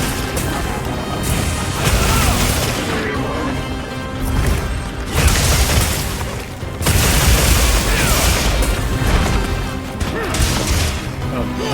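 A fire attack in the Monster Hunter Wilds video game goes off as a dense run of loud crashes and booming blasts. Game music and effects fill the background, and a voice speaks over part of it.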